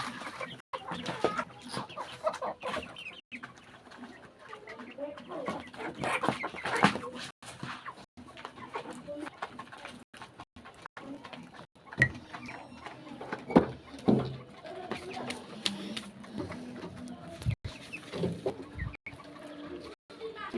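Chickens clucking and pecking close by, with irregular taps and scratchy sounds and occasional voices in the background.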